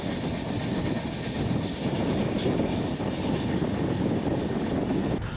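Passenger train rolling into Shoranur Junction station in Palakkad district, Kerala: a loud, continuous broadband rumble of wheels on rails, with a steady high brake or wheel whine that fades midway, close and without talk.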